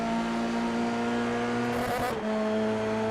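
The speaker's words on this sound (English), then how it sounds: "Off the limiter as well, sounds fantastic. I really do love these Formula 3 cars." A Formula 3 race car in a sim racing game at Monza screams at high, steady revs, a loud continuous engine tone with a brief dip and shift in pitch partway through before it holds high again.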